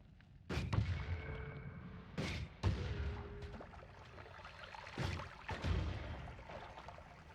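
A machine gun wand in Noita fires in short, booming bursts, with four or five clusters of crackling blasts separated by quiet gaps, plus faint trickling debris between shots.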